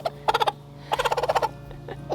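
A broody Buff Orpington hen calls out angrily in repeated bursts of harsh, gobbling clucks, close and fairly loud, with two main clusters and a softer call near the end, no talking.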